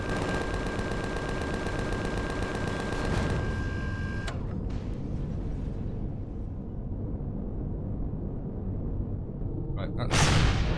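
Turrets firing in the video game Empyrion Galactic Survival, a loud, fast mechanical rattle of automatic shots that cuts off partway and leaves a rumbling tail, ending in a sharp burst.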